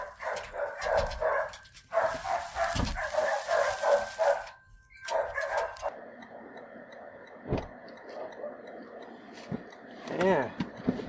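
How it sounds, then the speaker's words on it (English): A customer's dogs bark wildly behind a door, bursts of loud, rapid barking in several bouts with pauses between, while a person talks nearby at times. "that customer's dogs were going berserk."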